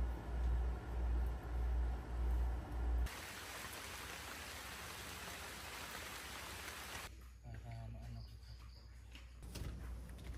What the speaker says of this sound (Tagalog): Ang lakas ng ulan kagabi hanggang kaninang mga 6 AM. Umaambon pa.